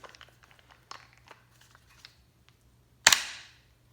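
A single sharp shot from an Umarex HDP 50 home defence pistol fitted with a modified pin, cracking loudly near the end after soft handling clicks and rustles.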